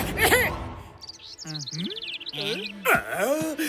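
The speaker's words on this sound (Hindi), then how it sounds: "ये सुंदर चिड़िया ये कहाँ से आ गई?" Bird chirps in a quick series of high, sweeping tweets, clear and fairly close, with brief vocal sounds just before and after.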